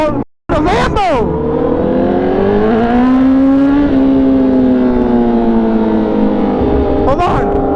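A Lamborghini on a Miami street revs loudly and roars past up close, a sustained rising engine note that swells and fades, with brief voices at the start and end.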